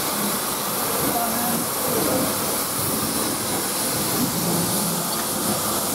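Urie class S15 No 506 steam locomotive running its train at Leicester North, giving a steady, loud broadband hiss and rumble that holds without a break throughout.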